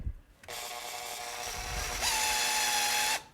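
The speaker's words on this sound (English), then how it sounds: "Now I'm going to put my screws in" A power drill drives screws into a cake board, a steady high whine that starts abruptly, rises in pitch partway through, then cuts off, heard alone and close.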